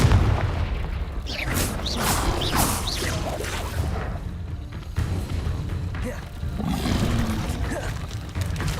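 Confringo blasting spell in the Hogwarts Legacy video game, with loud booming blasts and roaring whooshes stacked thickly over combat noise and shouted voices throughout.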